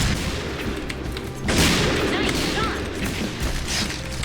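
Barrett and Kar98k sniper rifles fire in the game Point Blank; a sharp, booming shot cracks out about a third of the way in, with softer reports over steady, busy background noise.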